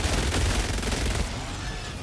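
A zero-recoil support weapon fires in Helldivers 2, a loud, continuous stream of rapid gunfire that fills the whole moment and eases slightly toward the end, with no talking over it.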